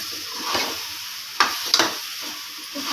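A pot of vegetable biryani mixture with lemon juice squeezed in is stirred over sizzling heat, and a few spoon scrapes ring out against the metal through a steady fry.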